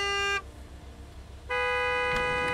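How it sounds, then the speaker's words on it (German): A delivery truck horn in Gas Station Simulator gives two loud, sustained honks separated by a short pause, the second running on to the end. "Nicht hupen."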